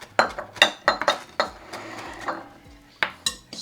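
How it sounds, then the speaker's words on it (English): Utensils clink and scrape against a bowl while tabbouleh is mixed with fresh herbs, a run of sharp close taps and stirring scrapes in uneven rhythm. "So I keep stirring and put everything in there."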